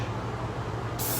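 Spray gun applying paint to cabinet doors, a steady close hiss of atomised finish that runs without a break and brightens sharply near the end.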